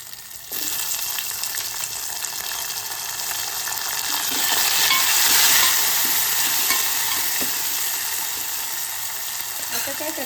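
Tomato stirred and frying with curry leaves in a pan over a low gas flame: a steady, close sizzle that starts abruptly and swells slightly midway, with faint scraping of the stirring.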